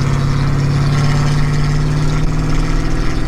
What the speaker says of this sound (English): turning up the exhaust